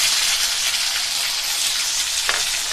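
Garlic and onion paste frying in mustard oil in a pan on low flame for an Odisha-style fish curry, a steady close hiss and crackle with no voices.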